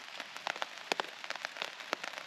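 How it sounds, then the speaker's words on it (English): Rain patters at a lakeside campsite on the shore of Lake Huron in fall, a dense, steady crackle of drops with sharper individual hits close by, no voices. "hopefully it will stop raining a little bit"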